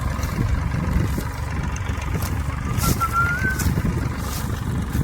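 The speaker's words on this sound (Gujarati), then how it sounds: "ટ્રેક્ટર" A tractor engine runs steadily with a low, rumbling drone, close and continuous throughout.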